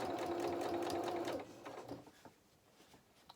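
A sewing machine runs steadily for just over a second while stitching the curved body of a fabric otter toy, then stops, leaving a few faint handling clicks nearby.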